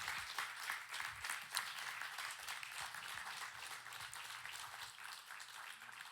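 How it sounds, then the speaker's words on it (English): Audience at an event on racism giving a round of applause, a soft, fairly distant spread of clapping that carries evenly for several seconds without voices. "Give a round of applause."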